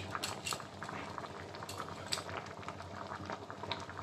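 Dal bubbles at a steady simmer in a pot in a Bengali kitchen, a dense close bubbling broken by a few light metallic ladle clinks, with no voices.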